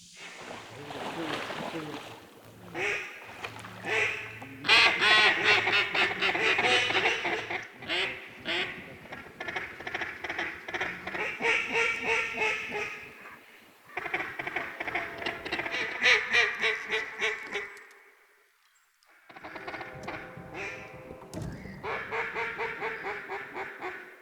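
Duck calls sounding during a duck hunt, with repeated loud quacking in rhythmic bursts and sequences, close and prominent, broken by a brief pause near the end.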